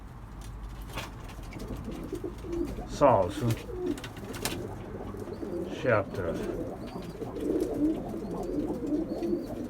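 Pigeons coo in low, throaty bursts amid a steady background of birds, with a few people talking quietly over them.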